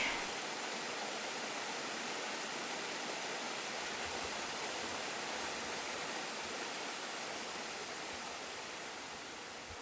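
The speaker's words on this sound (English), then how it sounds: "That sounds like we're following a creek." Steady rushing of a flowing creek in Quetico Provincial Park backcountry, a continuous broadband wash that stays even throughout with no voices.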